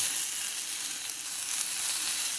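Chicken tenders sizzle in a hot pan on a stovetop over high heat, a steady bright frying hiss that holds evenly throughout with no talking.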